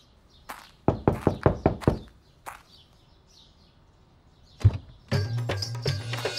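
Someone knocks on a door in a dramatized historical scene, with a quick burst of about six close raps, then a lone knock. A heavier thump and a shuffling, scraping sound follow, and faint bird chirps sit in the background.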